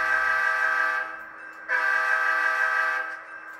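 A WiFi-controlled model locomotive sounds its horn twice while pulling out with a load of gondolas on a layout, two sustained tonal blasts separated by a short gap, loud and close, no talk.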